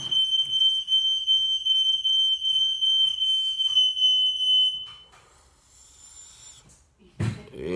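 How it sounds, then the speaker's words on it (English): A fire alarm sounding with a piercing, continuous high-pitched electronic tone that holds steady for about five seconds, then cuts off, followed by a quieter pause and a brief burst of other noise. "Fire alarm, you know."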